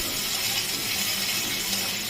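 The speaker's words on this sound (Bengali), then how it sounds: "জল দিয়ে দেবো জল দিয়ে দিলে" Water is poured into a frying pan of potatoes and green chillies for a fish curry, giving a steady, close, even rushing hiss that lasts throughout.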